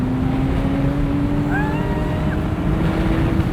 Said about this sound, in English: There's that glorious hollow howl that proper flat sixes make.